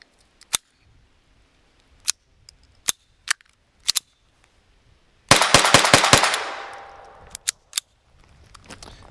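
Beretta 71 .22 pistol firing outdoors: a string of sharp, well-spaced single shots, then a quicker burst of several cracks with a ringing tail, followed by a few more isolated shots; no talking.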